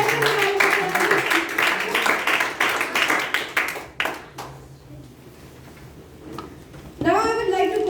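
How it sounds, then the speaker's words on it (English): Audience applause at a youth leadership club meeting for the second evaluator, a dense burst of clapping from a room of people that fades out, with a speaker's voice before and after. "Please give a huge round of applause to our second evaluation."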